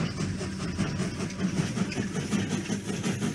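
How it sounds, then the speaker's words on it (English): Rumbling train engine in a Roblox toy-shop game, a steady low drone with a faint rhythmic clatter that swells slightly as it gathers speed, continuous and fairly close with no talking. "Train is speeding up."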